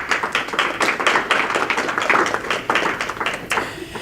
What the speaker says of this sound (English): If we could have another round of applause.